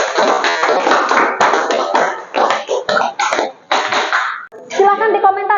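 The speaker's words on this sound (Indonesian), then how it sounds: "Tepuk tangan." Students in a classroom clap in a short, loud burst of uneven hand taps, with children's voices talking over and between the claps.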